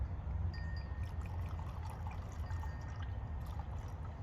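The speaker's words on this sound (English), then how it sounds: "So let's pour it on the rocks here." Angel's Envy bourbon poured over ice into a rocks glass, a soft continuous liquid trickle with faint clinks of ice, quiet and close.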